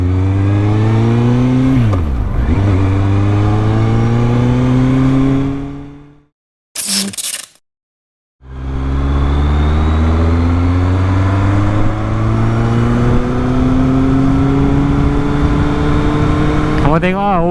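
A motorcycle engine drones and revs up close while riding, pitch climbing and dropping as it shifts, cutting out briefly before rising again.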